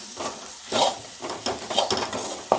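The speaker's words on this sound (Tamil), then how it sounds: "இப்போ எடுத்து வச்சுருக்கிற குழம்பு மிளகாய்த்தூளை சேர்த்துக்கிறேன். அதையும் லைட்டாக வதக்கிக்கிறேன்." Chili powder sautéed in an oily pan for Tamil paruppu urundai kulambu, with a spatula scraping in several uneven strokes over a soft continuous sizzle.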